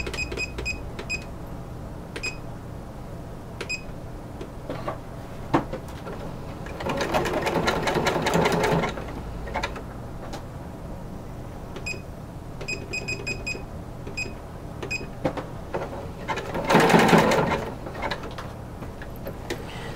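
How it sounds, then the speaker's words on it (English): A sewing machine stitches a close satin zigzag along a corset bone casing, running in bursts with a rapid mechanical whir that swells twice, among faint clicks and beeps, near and alone. "I'm just going to do sort of a satin stitch zigzag at the top."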